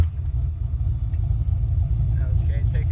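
A warmed-up car engine rumbles at idle with a deep, steady low throb, close and fairly loud, with faint higher noises near the end.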